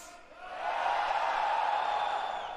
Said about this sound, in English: Can we have a shout from the Ola employees?